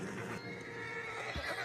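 A horse in the video game Red Dead Redemption 2 lets out a loud, close whinny that runs nearly two seconds, with a soft hoof clop near the end and no speech.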